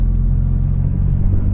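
A Mitsubishi Evo X engine with spark-cut launch control drones in a loud, steady low rumble, heard close up as a continuous engine sound with no talk.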